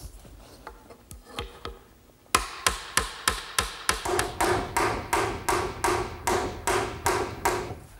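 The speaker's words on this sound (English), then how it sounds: "Just gluing them and tapping them in place." Glued back rails being tapped into place on a Shaker tall chest. A few lighter taps come first, then a rapid, steady series of sharp, close mallet or hammer blows on wood.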